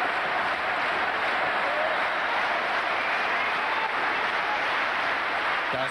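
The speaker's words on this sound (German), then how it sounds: "Publikum begeistert" A boxing crowd at a bout cheering and applauding enthusiastically, a steady dense roar of clapping and voices that holds from start to finish.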